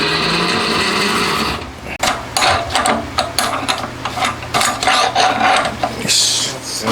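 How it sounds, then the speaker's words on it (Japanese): A drill bores a hole into a homemade DOHC cylinder head for an FIM152 engine, producing loud, steady grinding and chattering with irregular bursts and clicks as the bit bites, heard close and alone. "先端ドリルで開けた。"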